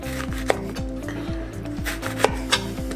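A knife tops and tails an orange on a cutting board: a few sharp, distinct cuts land apart from one another over steady background music.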